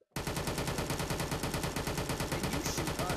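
Gunfire in the VR Chat game, a steady stream of rapid, evenly spaced automatic shots running without a break for over three seconds, fairly quiet and with no voices over it.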